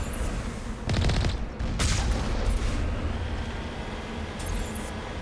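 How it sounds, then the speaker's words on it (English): Gunfire in the video game Mass Effect comes as bursts of rapid shots and booms over a continuous rumbling game backdrop, with a few sharp loud volleys near the start and a fainter one later. "What are you shooting at?"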